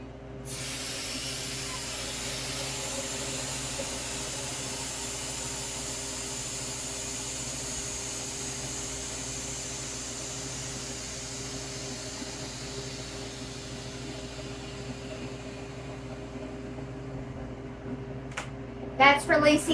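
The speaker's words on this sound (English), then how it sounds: "That's releasing the vacuum so that I can open the door." A long, steady hiss of air rushing out, gradually fading, followed by a few sharp clicks and knocks at the end.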